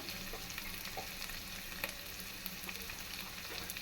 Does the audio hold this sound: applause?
no